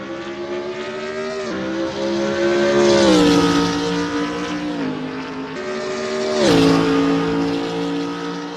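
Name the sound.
BMW Z4 GT3 race car engine at Spa, from a racing video game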